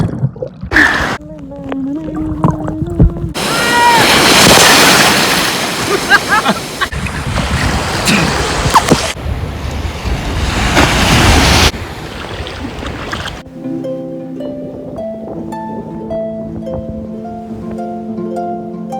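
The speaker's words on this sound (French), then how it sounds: "attaque incessante de vagues" Waves crash at a Zanzibar beach busy with kitesurfers while strong wind buffets the microphone in loud, broad roaring stretches, then subside as a voice speaks over calmer surf.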